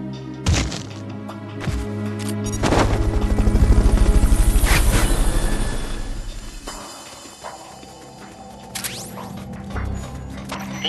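Helicopter rotor noise in the video game Metal Gear Solid: Peace Walker swells to a loud, steady chop in the middle and then fades, with sharp thunks and cracks of game effects around it.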